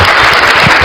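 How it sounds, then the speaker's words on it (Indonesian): A brief burst of applause from a religious gathering, dense broadband clapping that is loud and continuous. "Iya, tepuk tangan."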